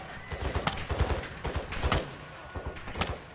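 Repeated gunfire from a Call of Duty Modern Warfare II firefight, sharp shots in several irregular bursts, some close and loud, others slightly softer, with no talking.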